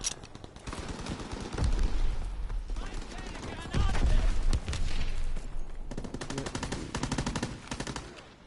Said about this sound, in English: That guy's shooting someone over there